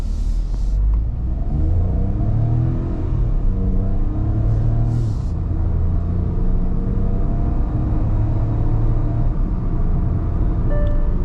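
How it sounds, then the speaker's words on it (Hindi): A 2022 Hyundai Venue N-Line accelerates in normal drive mode to around 80 on an empty road, its engine rising in a loud, steady in-cabin rumble with climbing pitch through gear changes. "मैं नॉर्मल ड्राइव मोड पे अराउंड 80 के आसपास कार को ले जाने का ट्राई करूँगा"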